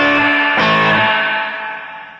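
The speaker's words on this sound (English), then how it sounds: "Now I said it's got spring reverb, which is on right now." A Peavey Classic combo guitar amp with its spring reverb switched on rings out a loud, distorted strummed chord, then a second hit, with the reverb tail sustaining and slowly fading.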